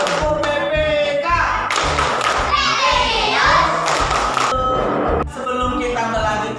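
A school class doing a rhythmic clapping chant together, with children's voices chanting over a steady pattern of loud hand claps and thumps that stay close and energetic throughout.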